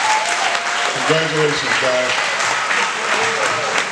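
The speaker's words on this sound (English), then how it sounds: "Please join me in giving our Mike's players a big round of applause." Crowd applause at a youth rec football and cheerleader banquet for the players, continuous clapping from many hands with a voice speaking briefly over it.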